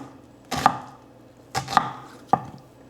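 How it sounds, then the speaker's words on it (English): Three sharp knife chops on a cutting board while an onion is diced, spaced about a second apart and close up, with no talking. "Now I am dicing the onion."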